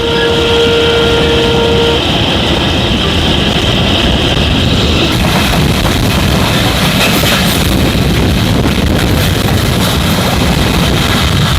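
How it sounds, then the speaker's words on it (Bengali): Train pulling out of Mongla station, heard from on board as a loud continuous rumble and rattle of the carriages with a steady roar and no clear voices. "অলরেডি আমাদের ট্রেনটি কিন্তু মোংলা ছাড়ছে"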